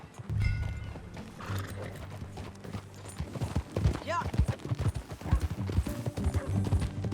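Horses galloping in the Red Dead Redemption 2 video game, rapid rhythmic hoofbeats growing louder and closer with a whinny, under brief spoken dialogue.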